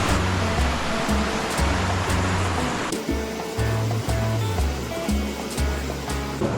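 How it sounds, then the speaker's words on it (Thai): A small waterfall at Lam Khlong Ngu in Kanchanaburi, a constant loud rush of falling water with a steady low rumble running underneath. "น้ำตกมาแล้ว"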